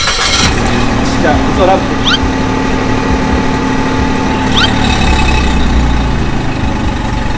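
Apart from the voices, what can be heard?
car engine starting and idling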